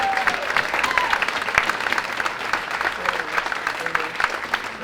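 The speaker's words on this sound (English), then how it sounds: "Hey, give a round of applause to these folks." A Fourth of July crowd gives the caterers a round of applause. Lively, dense clapping keeps up throughout, with a few sharp individual claps and a low murmur of voices beneath.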